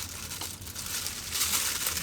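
A plastic bag holding onions and pickles with liquid in the bottom crinkles and rustles up close during SUV camping, a continuous crisp crackling that swells louder toward the end.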